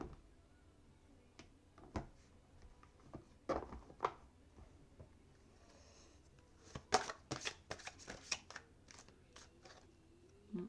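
A deck of oracle cards being cut in two, heard as faint scattered card riffles and taps at close range in an otherwise quiet room, with a few soft rustles and clicks.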